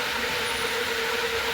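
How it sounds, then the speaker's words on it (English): A floor sander's buffer runs steadily with a loud, close, broadband whirring hum and an even tone throughout, with no talk. "let's try the buffer"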